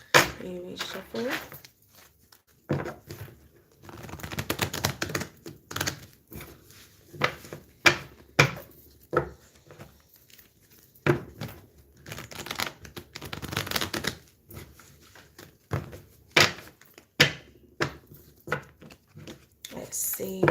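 Tarot cards are shuffled by hand in irregular bursts of riffling, slapping and rubbing, close and crisp, with brief pauses between rounds and speech at times.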